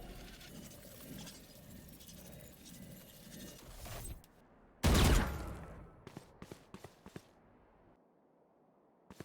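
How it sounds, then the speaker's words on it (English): Killjoy's swarm grenade detonating in Valorant on the Ascent map, a sharp loud burst followed by a series of short crackling pops fading out over a quiet background. "Placing swarm grenade. Swarm grenade out."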